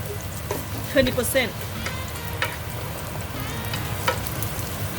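Garlic frying in a pan with a close, steady sizzle and several sharp spatula scrapes and stirs, while a voice speaks briefly over it.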